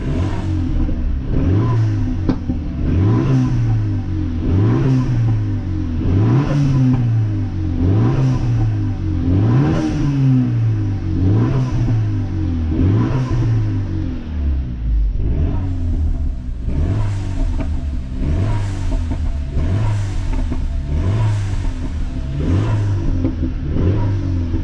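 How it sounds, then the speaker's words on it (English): A Renault Megane CUP 250 with a 2-liter front-wheel-drive turbo engine and an opened-up exhaust is revved repeatedly while parked, giving a loud, rhythmic series of rising and falling blips with sharp crackles between them. No one speaks. "So I'll give it a rev so you can hear."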